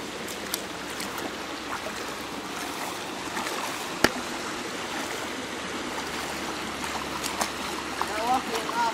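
A shallow river waded across on foot in the wilderness, a steady broadband wash of flowing water with occasional splashes and sloshing, fairly close, continuous throughout.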